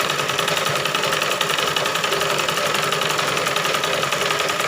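A home sewing machine stitches a blouse in a fast, even mechanical rattle, loud and continuous, with no voices.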